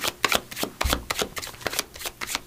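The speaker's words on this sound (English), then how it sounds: "I'm going to do a couple more cards just from the Millennium Thoth Tarot." Tarot cards from a Millennium Thoth Tarot deck being shuffled, a quick run of crisp papery riffles and slaps with a soft thump near the start, close and fairly loud with no talking.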